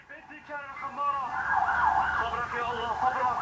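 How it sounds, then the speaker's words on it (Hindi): Ambulance sirens wail through the aftermath of an air strike on Aleppo, a steady rising and falling tone sustained over several seconds and moderately loud, with a faint low rumble beneath. "कुछ एम्बुलेंसेज की आवाज भी हैं,"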